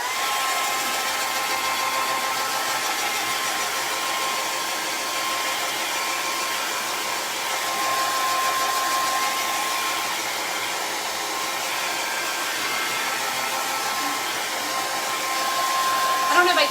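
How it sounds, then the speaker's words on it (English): A blow dryer blows steadily on a Halloween craft, a continuous airy whir with a faint high whine, holding even for the whole stretch with no talk over it. "I'm gonna hit this with the blow dryer"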